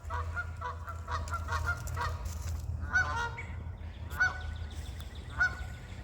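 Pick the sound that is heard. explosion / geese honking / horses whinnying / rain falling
geese honking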